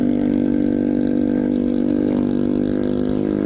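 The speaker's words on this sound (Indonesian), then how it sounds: "ini motor berisik banget di depan" A noisy motorcycle rides just ahead in traffic on the road to Sukabumi via Puncak, its loud, steady buzzing engine drone holding constant over the rumble of the rider's own machine.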